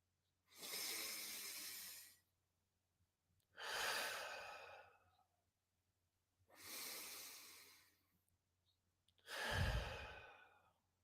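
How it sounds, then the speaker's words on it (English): Four slow, deep breaths, each drawn in through the mouth and let out through the nose, come as separate airy swells with quiet pauses between them, close and alone. "2 deep breaths in through the mouth, out through the nose."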